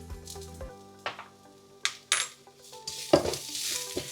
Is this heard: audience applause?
no